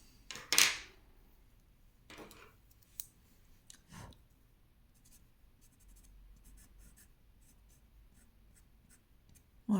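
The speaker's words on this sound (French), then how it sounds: "Je caresse le papier." A quill pen strokes across paper while drawing, with a few sharp, scratchy strokes separated by long quiet gaps and faint soft rustles between them.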